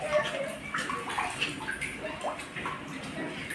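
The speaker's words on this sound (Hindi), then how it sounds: "और ये नल चलेगा। तो इसको मैं यहाँ से वाल खोल दूँगी।" A household water tap runs in a home, a splashing, gurgling stream with small drips and sloshes, moderately close and unbroken by speech.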